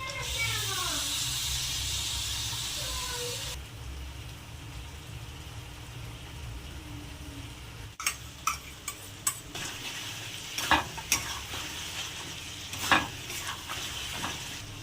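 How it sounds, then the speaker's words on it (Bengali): Mutton goes into a pan of fried spices and is stirred: a strong broad sizzle at first settles into a quieter frying hiss, then a run of scraping, clacking stirring strokes near the end, with no talk. "মশলাগুলো ভালোভাবে হয়ে গেছে, এবারে এই মাংসটা দিয়ে দেবো এর মধ্যে"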